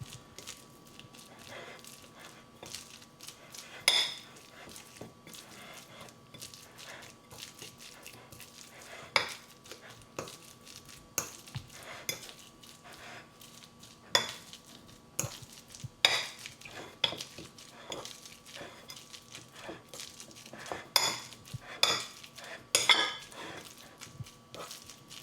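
Spoon scraping and stirring a vegetarian burger mixture with flour in a bowl, soft shuffling with sporadic sharp clinks against the bowl, close and fairly quiet.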